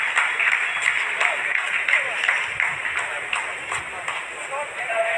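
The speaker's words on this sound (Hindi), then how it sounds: "आप इस तालियों के गड़गड़ाहट को सुन सकते हैं" Scientists applaud in a mission control room during the Chandrayaan-3 lunar landing, steady clapping spread through the whole stretch at a moderate distance, with faint voices mixed in.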